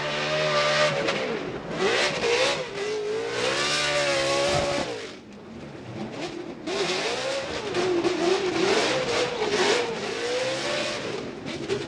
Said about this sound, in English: listen to the AutoZone Mustang RTR Spec 5 FD